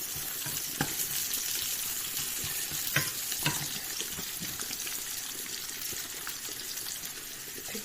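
Onion frying in a pan for a potato and egg stir-fry, a steady close sizzle with occasional sharp crackles and pops throughout, no talking.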